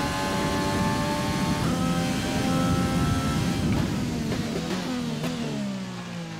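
An F1 2020 video game race car brakes in heavy rain, its steady engine whine stepping down in pitch through downshifts while a hiss of spray sits underneath. Moderately loud, with no talking.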